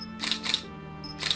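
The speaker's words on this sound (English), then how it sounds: "that shutter noise is hella loud" Camera shutter in the video game Pom Gets Wifi, two crisp double clicks about a second apart, close and fairly loud, over a faint low hum.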